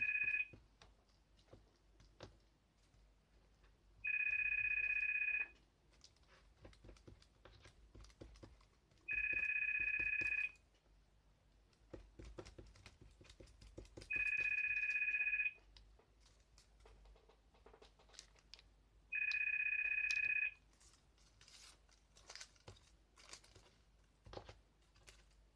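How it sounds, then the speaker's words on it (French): A telephone rings four times at steady intervals, each a clear, electronic trill lasting about a second, fairly close and loud over faint rustling and tapping from acrylic painting work. "Évidemment, le téléphone sonne,"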